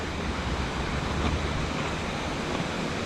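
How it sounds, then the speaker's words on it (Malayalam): A hidden waterfall near Rishikesh sends water rushing and churning in a steady, dense roar that fills the whole scene without pause. "സുഖമല്ലേ, വെള്ളം ഇങ്ങനെ ഒഴുകി വരുന്നതല്ലേ"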